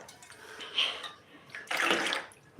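Water is poured into a container in two short splashing gushes about a second apart, fairly close and moderately quiet, ending with a brief clatter.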